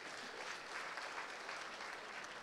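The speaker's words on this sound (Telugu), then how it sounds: "గట్టిగా చప్పట్లు కొట్టండి" An audience at a college engineering event claps steadily through the moment, a dense, even burst of applause heard from a short distance with no talk over it.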